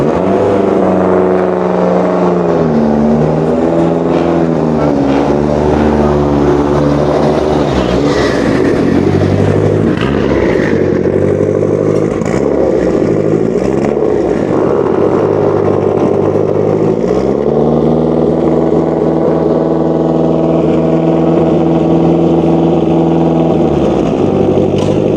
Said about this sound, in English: You're going to put up with it to listen to this Integrale moving.